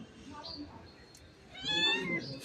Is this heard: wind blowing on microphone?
no